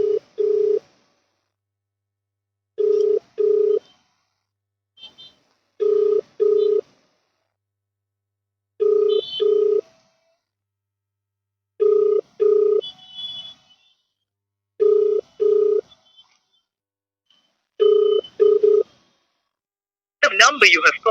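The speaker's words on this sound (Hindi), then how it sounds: "उनके COG नंबर पर कॉल कर रहा हूं।" A phone call placed to a district official's number rings out, with repeated evenly spaced ring bursts about every three seconds separated by silence, close and clear, ending with a brief automated voice.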